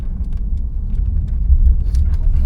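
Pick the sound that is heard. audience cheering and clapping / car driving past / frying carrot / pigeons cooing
car driving past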